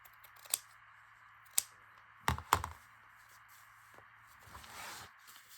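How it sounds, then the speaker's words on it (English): Sharp craft scissors cutting ribbon for a paper-bag junk journal: a few crisp, close snips spaced over several seconds, with a soft papery rustle toward the end in an otherwise quiet room. "I'm just going to use my Wanda scissors. They're nice and sharp, and I keep them out of the glue so they're not gluey."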